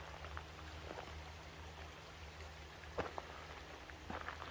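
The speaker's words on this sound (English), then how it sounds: "the creek from the next to the Flaming Geyser comes down and goes under the bridge there" A creek near Flaming Geyser State Park rushes under a footbridge with a steady broadband wash. It stays constant and moderately loud throughout, with a few sharper splashes near the end and no talking.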